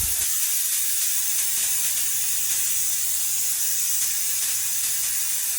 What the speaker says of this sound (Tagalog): tinatanggal lang po natin yung pressure sa loob para hindi mahirap buksan yung pressure cooker natin